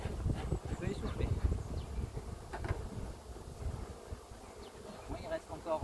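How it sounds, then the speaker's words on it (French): Honeybees left in a swarm box buzz in a faint, continuous drone mixed with rustling and handling noise, with breathy puffs and soft movement close to the microphone. "il reste encore quelques abeilles dedans"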